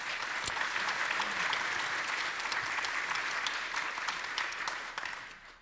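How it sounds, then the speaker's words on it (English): A warm round of applause from a conference audience at an Irish technology event, steady and full-bodied, with a few sharper individual claps standing out before it gradually tapers near the end. "Will you please give them a warm round of applause?"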